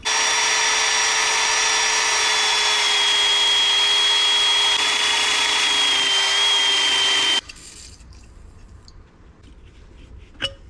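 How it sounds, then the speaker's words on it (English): A power drill whines loudly and steadily for about seven seconds with a grinding edge as it cleans rust off a military surplus wrecker's shaft, then stops abruptly, leaving quiet room noise and a small knock. "I'm gonna clean it up with a drill."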